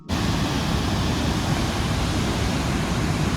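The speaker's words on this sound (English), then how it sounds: "What you're hearing is the sound of Europe's most violent falls," Dettifoss waterfall in northeast Iceland, Europe's most violent falls, roaring as a dense, steady, loud wall of rushing water that starts abruptly and holds unbroken without any voices.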